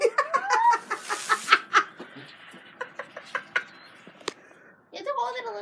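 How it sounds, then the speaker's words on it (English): Chickens cluck in short bursty calls near people handling a firework, with voices talking over and between the clucks; a brief sharp burst and a quieter pause come before the clucking picks up again. "The only thing you're doing is freaking the birds out."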